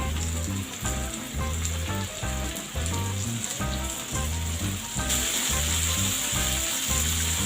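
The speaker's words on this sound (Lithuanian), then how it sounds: "Daržovės turim beveik išsikepę." Vegetables sizzle steadily in a hot pan, a constant crackling hiss that continues throughout, with music playing alongside.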